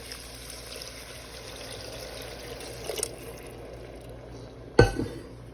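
Two and a half cups of water poured into a pot of mixed rice, ground meat and vegetables for a dirty rice box meal, a steady soft stream ending in one sharp clunk.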